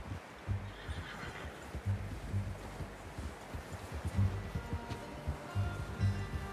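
A horse whinnies and snorts repeatedly, fairly close, over a low rumbling background with occasional hoof clops, in the video game Red Dead Redemption 2.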